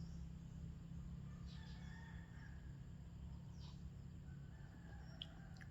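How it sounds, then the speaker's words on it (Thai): A distant rooster crows a few times over a constant low hum, its calls thin and faint against the steady background noise. "ฟังเสียงไก่ขัน"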